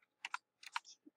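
Quick clicks of typing on a computer keyboard come in two short bursts of keystrokes, then a couple of isolated taps, close and quiet with no voices.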